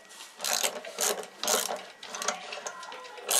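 A gear puller being wound tight with a 15 mm spanner while removing a Camon LS42 rotavator cartridge, giving a string of close, gritty ratcheting bursts in short repeated strokes.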